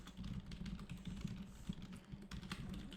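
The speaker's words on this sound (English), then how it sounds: "so if I press my escape button, we just close" Keys clatter on a computer keyboard in a quiet run of fast, even taps, close but soft, with no voice present.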